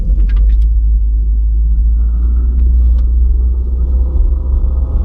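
A car fitted with an electric turbo accelerating hard from 0 to 60, a loud, close, deep engine rumble building steadily inside the cabin.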